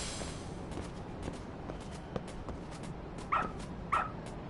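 A dog in the video game Lost Judgment gives a few faint yips and a whimper, short separate calls over a low, quiet game background with no talking.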